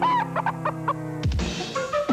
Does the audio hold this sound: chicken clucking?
yes